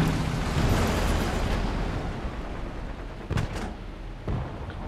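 Incoming tank gunfire and explosions in War Thunder, around a Matilda tank: a steady rumbling battle roar, then a few sharp, louder blasts near the end, with no voices.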